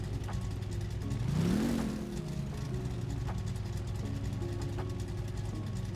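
A car engine in a home garage turns over and catches with a brief rising rev near the middle, then settles into a steady idle that runs to the end at moderate level, with faint mechanical clicks alongside.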